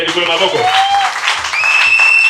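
A church congregation claps together in a short burst of applause, with a voice carrying over it.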